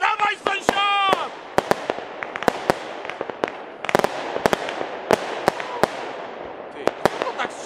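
Fireworks go off from a leftover launcher on a street, a rapid series of sharp bangs and crackles with a whistling rocket early on, loud and near, with people talking excitedly in between.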